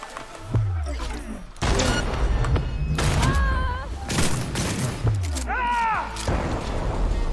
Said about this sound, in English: So we're going to shoot him, then we're going to run and shoot the other two.